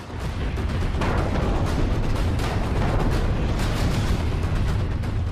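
A loud, dense roar of a car bomb explosion at Delhi's Red Fort, with rumbling booms and crackling bursts, sustained throughout without any voices.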